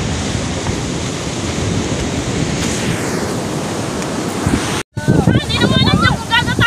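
Sea waves break near the shore, heard as a steady, loud rushing wash with wind buffeting the microphone, then a brief cut and clattering, chattering noises at the end.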